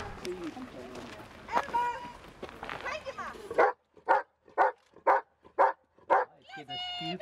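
A rescue search dog barks in a rapid series of about six sharp, loud barks right after locating a hidden victim during a training exercise, following a stretch of talk over the scene.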